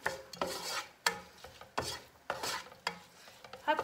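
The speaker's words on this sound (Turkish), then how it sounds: "Güzelce karıştıralım." Onions frying in oil in a pot are stirred with close, rhythmic scraping strokes, each a short rasping burst over a soft sizzle. No one speaks.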